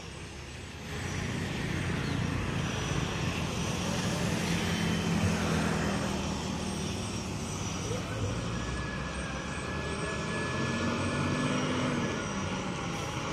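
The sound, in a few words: Hino AK front-engine bus driving past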